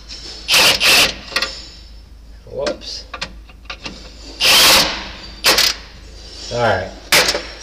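A wrench working loose a nut on a 3030 air brake chamber of a Diller semi trailer, with sharp metallic bursts of ratcheting and clanking in irregular spurts and a muffled voice between them.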